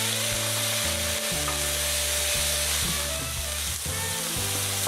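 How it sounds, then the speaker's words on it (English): Snow peas simmering in a pan of tofu and veggie stir fry give a steady, close sizzle and bubbling hiss, with a low droning musical backing and no talk. "we will throw in the snow peas that we have peeled and soaked and cleaned, and we'll simmer that again for another 2 minutes"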